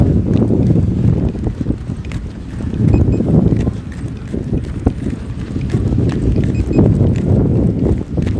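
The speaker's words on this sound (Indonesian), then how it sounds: "Oh my goodness, anginnya lumayan kencang di sini." Strong outdoor wind buffets the microphone during a field test of an SJRC F11 Pro drone, a steady, loud low rumble with gusting swells that fills the whole stretch and has no talk.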